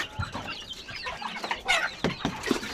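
Chickens cluck in short, irregular bursts nearby, with a few sharper squawks, at moderate volume and without talk.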